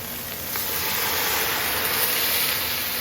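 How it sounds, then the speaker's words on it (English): Loud, steady hiss of water flashing to steam in a hot, dry pan while making chicken stock, sustained and close throughout. "when you add water to a pan that's otherwise dry and hot, you want to stand back"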